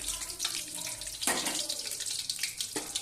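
Whole cumin, dried red chillies, rice and lentils dropped into hot oil sizzle and crackle in a pan, a steady hissing fry with sharp bursts of spitting.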